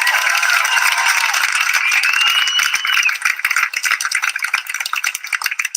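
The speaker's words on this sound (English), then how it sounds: "He introduced me, and you clapped." A rally crowd breaks into dense, loud applause, a continuous wash of many hands clapping close by that thins into scattered claps toward the end.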